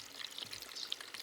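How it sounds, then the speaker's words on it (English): Water trickling from a small solar-powered hydroponics pump lifting it about 14 inches, a faint steady splashing flow close by. "this little pump is currently lifting the water about 14 inches maybe from the surface of the water to here"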